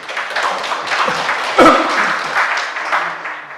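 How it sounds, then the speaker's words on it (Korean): A Korean church congregation claps briefly on the preacher's prompt, a loud, close burst of applause with one sharp louder clap midway, continuing steadily to the end. "박수"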